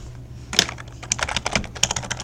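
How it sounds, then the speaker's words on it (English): A computer keyboard clatters as a math search is typed into Google, a close, crisp flurry of keystrokes in quick irregular bursts with no voice over it. "So I'm going to go to Google and type in arcsine of"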